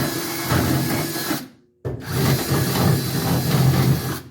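A drill bit grinding primer off sheet metal before welding on a Mercury Capri, a loud, steady abrasive whir that stops briefly midway and then resumes.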